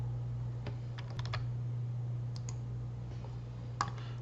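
Several sharp, light clicks spaced irregularly over a steady low hum, close and faint, from a computer mouse operated while working in SolidWorks CAD software; no one speaks.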